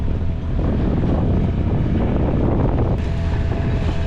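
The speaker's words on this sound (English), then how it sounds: "That wind is probably blowing 14 to 16 mile an hour with the white caps that we see." Strong wind of roughly 14 to 16 mph, enough to raise whitecaps, roars steadily and loudly across the microphone on a sailboat drifting toward a dock, with a continuous broadband rush of wind and water.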